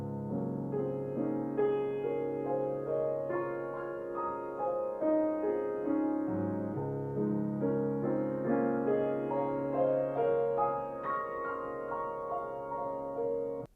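Solo piano plays Debussy's Reflections in the Water in a rigidly even tempo, without rubato. The sustained, rippling chords and arpeggios move at a steady, mechanical pace, and the playing is heard on its own, cutting off abruptly at the end.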